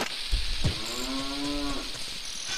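A single drawn-out cow moo from the Legend of Zelda: Ocarina of Time game, on Death Mountain, rising and then holding steady, loud and close over faint ambient background.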